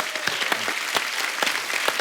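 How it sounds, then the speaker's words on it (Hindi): A television comedy show studio audience breaks into loud, dense applause, with sharp individual claps standing out above a continuous roar of hands, close and sustained throughout. "इनके लिए जोरदार तालियां हो जाए एक बार"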